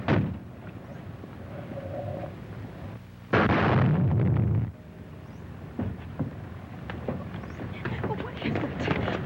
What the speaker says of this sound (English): The motor exploded.